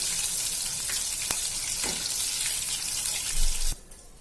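Bombil (Bombay duck) fish frying in hot oil, a steady close hiss of sizzling with a few sharp crackles, ending in a brief louder burst before the sound drops away.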